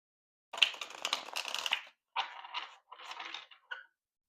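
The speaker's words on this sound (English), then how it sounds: "we're going to give this one more shuffle" Tarot cards are shuffled close up in three quick riffling bursts, crisp and papery, each split by a short pause and followed by a single soft tap, with no talk.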